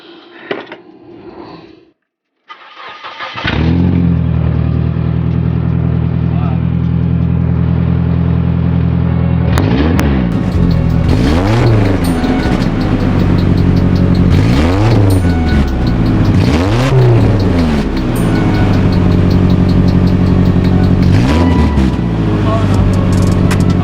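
Nissan S13 with a newly fitted aftermarket exhaust, its engine idling steadily, then revved repeatedly in a series of loud, rising bursts that fall back to idle, close and alone with no talk.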